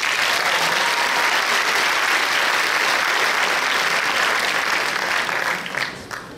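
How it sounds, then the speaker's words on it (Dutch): Loud, sustained applause from an audience at a Miss Fashion pageant event, dense clapping continuing steadily before fading slightly at the end. "Geef ze een applaus, Livy."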